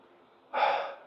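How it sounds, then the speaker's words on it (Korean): One heavy, breathy exhale bursts in after a moment of quiet, close to the mic and fairly loud, from someone out of breath while exercising. "그냥 제 숨소리만 들리는 게 좋아요"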